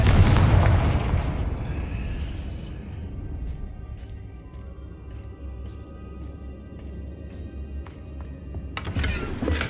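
A Confringo fire spell from Hogwarts Legacy bursts with one loud booming blast that rolls into a long fading rumble, joined by scattered sharp clicks and a second crack near the end.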